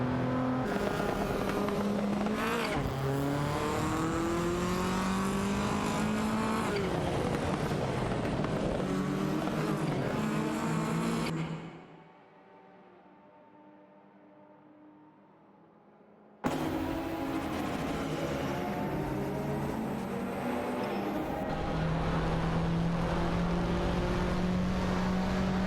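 Video game racing cars, a Ford Sierra and a Porsche 911, their engines droning and revving loudly, cutting to a brief muffled lull midway before the roar returns and carries on steadily.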